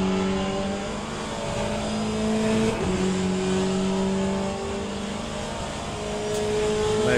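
Race cars run side by side down the straight in the Le Mans Ultimate racing game, their engines holding a loud, sustained whine with a brief shift change partway through.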